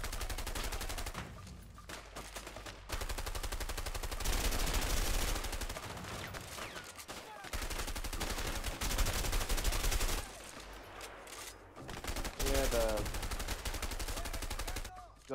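Rapid gunfire in the video game A Way Out, dense continuous bursts of shots filling the clip with brief gaps, loud and sustained, with a voice briefly heard alongside.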